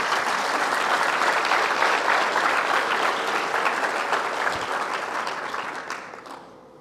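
A church congregation breaks into dense, sustained applause during a sermon, many hands clapping together in a thick continuous wash that stays strong and then fades away toward the end.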